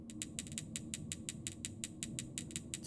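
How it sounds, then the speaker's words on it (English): Springs are wound tight in the Five Nights at Freddy's Sister Location video game, a fast, regular ratcheting click repeating many times over a low mechanical hum, with no talk. "where you have to like keep tightening the springs"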